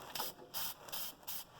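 Short hissing bursts of spray paint marking hole positions along a Kubota snowblower wear edge, four quick sprays in a row, quiet and close with no talking.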